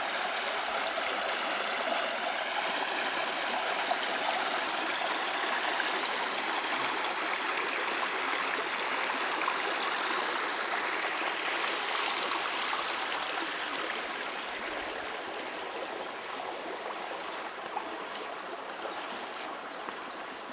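A brook flows steadily near a Vermont studio, giving a continuous broad rushing and babbling wash that stays even throughout, with no voices.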